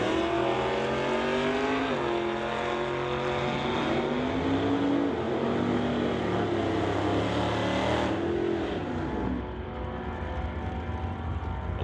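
A black 1973 Chevrolet Nova and a 1977 Mustang II drag race side by side at an NHRA Summit ET drag strip, their engines roaring loudly and steadily with rising and falling revs throughout.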